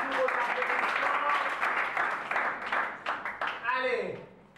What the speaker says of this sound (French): F3, sous vos applaudissements.